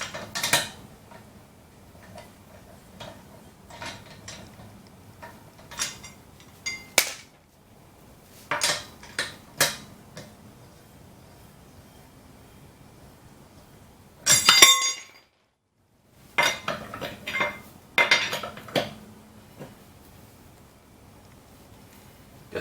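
Lug nuts from a car wheel set down during a spare tire change: scattered, close metallic clinks and taps in irregular clusters, separated by quiet pauses, with no talking.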